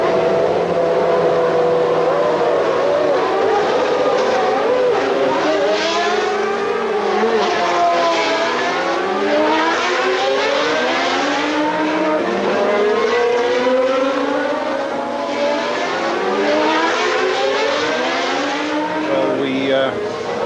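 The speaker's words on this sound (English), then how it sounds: "Started the car up on the grid." Race car engines on a starting grid as many cars fire up together, a loud, continuous layered roar with rising and falling revs from several engines at once, with a voice talking over it.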